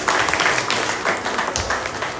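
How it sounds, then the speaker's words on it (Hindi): Broad, steady applause from an audience at a formal event, sustained clapping filling the hall without a break for a couple of seconds, loud and close. "उनके लिए एक अलग से ताली बजाइए"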